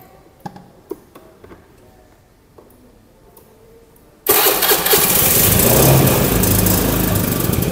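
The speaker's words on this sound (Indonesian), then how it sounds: "Kita nyalakan dulu mesinnya." A vehicle engine during an ignition system check gives a few faint clicks, then starts abruptly partway through and keeps running loud and steady at idle to the end.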